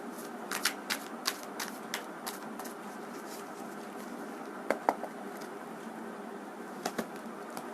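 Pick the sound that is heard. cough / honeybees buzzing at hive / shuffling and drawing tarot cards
shuffling and drawing tarot cards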